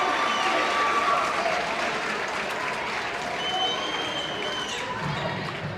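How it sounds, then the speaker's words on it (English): A basketball playoff crowd cheering and applauding, a dense continuous roar of clapping and shouting filling the gym at steady loudness, with whistles and voices rising through it. "the crowd's back into it"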